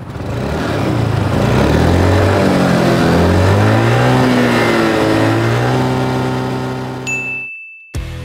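A hybrid scooter engine revs up and down for several seconds, its pitch rising and falling, then cuts off with a faint chime at the end.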